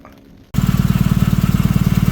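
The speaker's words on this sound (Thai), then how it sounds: "เครื่องติดนะครับ แต่ว่ามีปัญหาเดินไม่ครบสูบนะครับ" A Honda Civic FD engine with immobilizer disabled cranks and catches, then runs rough and loud with a steady uneven pulsing from a cylinder misfire, close up and alone.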